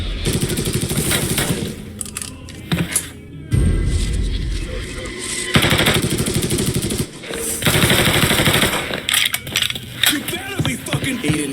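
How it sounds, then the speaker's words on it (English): Bursts of gunfire from the Mafia III video game ring out loud and close, with repeated rapid volleys broken by short pauses and some clattering between them. "Shots came from that way."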